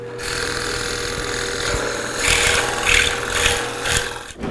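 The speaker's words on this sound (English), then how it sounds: "Drill out the holes with a 1 1/4 inch Forstner bit." A drill press with a 1 1/4 inch Forstner bit bores holes in wood for stackable trays. It makes a steady mechanical whir and grinding that swells louder in several pulses as the bit cuts, then cuts off at the end.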